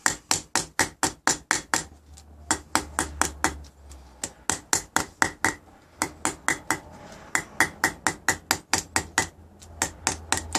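Hammer blows fold over the edge of an aluminium sheet on a Terminator T800 build: crisp metallic strikes come in quick bursts of several hits with short pauses between, close and loud with nothing else around.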